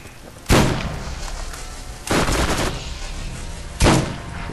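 Three heavy sniper rifle shots in the Borderlands video game boom out loud and close, each spaced about a second and a half apart with a lingering roar trailing after.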